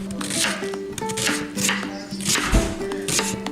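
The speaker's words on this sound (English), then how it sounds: "I'm gonna chop up an onion" A knife chops an onion on a cutting board in quick, steady strokes, close and crisp. Light background music plays throughout.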